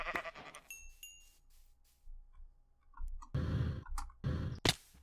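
Blocky Minecraft sheep bleat loudly twice in quick succession near the end, preceded by game clicks and softer sounds, all close and clear with no talking.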